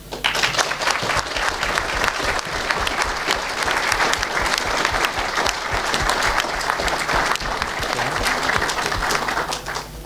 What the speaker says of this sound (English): would you settle for a round of applause first?